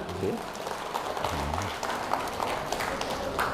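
Audience applause at a talk on cultural diplomacy, a steady wash of clapping from a crowd while a voice briefly speaks over it.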